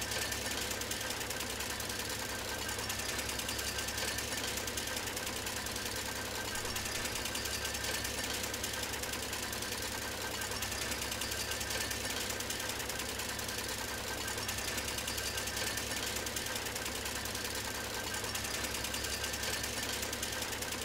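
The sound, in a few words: chainsaw in the video game Farming Simulator 17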